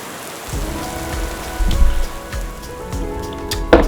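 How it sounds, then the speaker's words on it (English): Heavy rain falling at the beach through a windy night, a continuous loud patter with several sharper bursts of drops and gusts, with no voices. "It has rained all night long."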